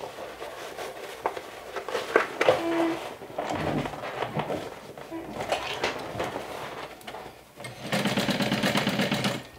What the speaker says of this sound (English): I just want it to stay put while I'm sewing all around